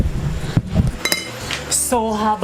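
Cooking pots and pans clatter and clink while being washed after sautéing spring beans with sardines, with irregular metallic knocks and a running tap tone, fairly close.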